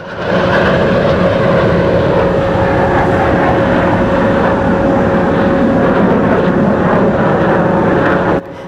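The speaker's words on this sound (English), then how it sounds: "The L-15, known as the JL-10 in Chinese service, is an advanced jet trainer developed by Hongdu" Hongdu L-15 twin-engine advanced jet trainer flying at the Dubai Airshow, a loud, steady jet roar with a sustained whine that holds for about eight seconds before cutting off.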